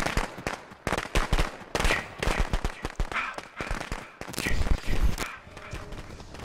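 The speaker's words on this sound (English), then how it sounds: "those fireworks come in happy. Love fireworks." Fireworks in the horror video game Friday the 13th, a dense string of rapid crackling bangs and pops going off in quick bursts, loud and close, with a faint voice underneath at times.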